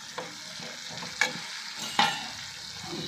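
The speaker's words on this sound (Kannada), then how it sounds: "ಈಗ ಹುಣಸೆ ರಸದಲ್ಲಿ ಕುದಿಯುವಾಗಲೇ ಅದಕ್ಕೆ ಖಾರವನ್ನು ಹಾಕ್ಕೊಳ್ಳೋಣ." Bitter gourd curry cooking in tamarind juice with chili powder in a pan, a low bubbling sizzle broken by a few sharp scrapes and clinks of a spoon stirring, close and fairly quiet with no talking.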